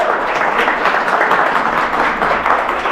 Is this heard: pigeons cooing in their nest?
no